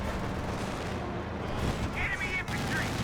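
Gunfire and artillery rumble in a Company of Heroes 2 battle as conscripts push forward and a quad half-track advances, a steady dense barrage with a commentator talking over it.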